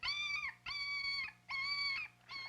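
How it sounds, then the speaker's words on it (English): A mother dog with puppies, heard as four drawn-out, whining howls in a steady rhythm, each about half a second long, close and fairly clear over faint background hiss. "This mother dog has 9 puppies to feed and take care of."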